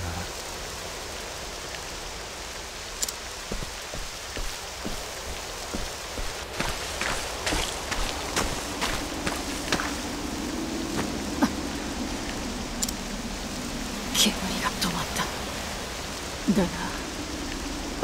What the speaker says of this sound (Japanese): 雨はまだ止みそうにない。